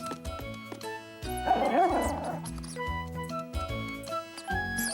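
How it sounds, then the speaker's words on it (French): Cartoon puppy from a children's animated series barks and yips under a bright, busy music score, with short whimpering sounds around the middle; the sound is near and moderately loud, with no talking. "le chiot ne faisait plus du tout peur à Caillou"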